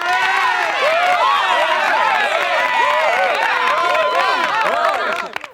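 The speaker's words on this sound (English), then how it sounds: "Let's give her a round of applause while we're at it." A crowd cheers and whoops in celebration of marketing specialist Bailey Collins, many voices overlapping in a loud, steady swell that carries on for several seconds before cutting off sharply.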